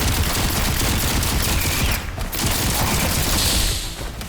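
Continuous gunfire in the VR shooter Into Black on PSVR2, a dense rattling barrage of shots that runs steadily and loud before easing off near the end, with no talk over it.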